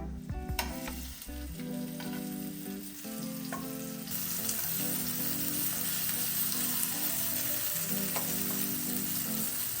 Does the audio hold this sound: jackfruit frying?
yes